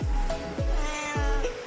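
A cat meows three times outdoors at a steady, evenly spaced rhythm, each call close and fairly loud with no talking over it.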